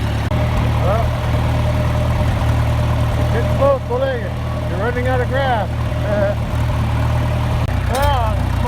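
An old John Deere 2020 tractor idles with a steady low diesel rumble while mowing weeds in a pasture, running continuously under someone speaking nearby.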